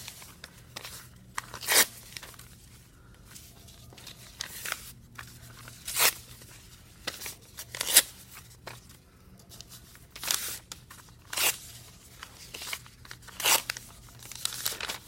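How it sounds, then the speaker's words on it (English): Paper ripped by hand into strips for papier-mâché, a series of sharp, close tearing bursts spaced every second or two with quiet pauses between, no talking. "So I'm simply ripping."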